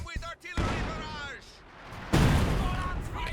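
ZiS barrage artillery in Company of Heroes 2, with shells landing in heavy booming impacts, one sharp blast midway followed by a rumbling roar, heard beneath someone talking throughout.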